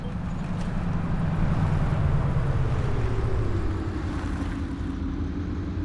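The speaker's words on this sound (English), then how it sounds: "Did you hear the braking?" Bus in a driving simulator video game rolling along and braking, a steady low engine and road rumble that slowly drops in pitch as it slows, moderate and close, with no skidding and no talking.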